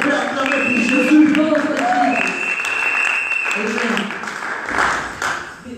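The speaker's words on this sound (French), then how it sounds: "Est-ce qu'on peut acclamer pour Jésus?" A church congregation applauds and cheers for Jesus during a service, sustained loud clapping with raised voices and shouts from the crowd filling the whole stretch.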